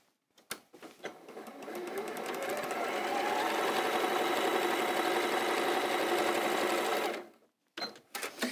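A sewing machine stitches quilt block pieces in one steady, loud, whirring run of several seconds, starting after a few clicks and stopping abruptly, followed by brief handling noises.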